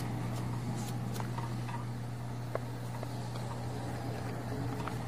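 A suction pump on a Stimix 320 device runs with a low, steady hum and faint hiss, continuous throughout with occasional small clicks, fairly quiet and without speech.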